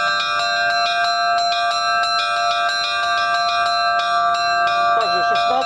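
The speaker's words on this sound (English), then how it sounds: "Up, second bell." Russian-style bell ringing sounds loud and near, with the second bell and smaller bells striking in a steady rhythm whose overlapping tones ring on, and a brief voice near the end.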